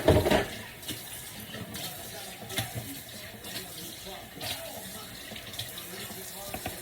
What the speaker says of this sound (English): Trying to get this water hot so I can wash my hands.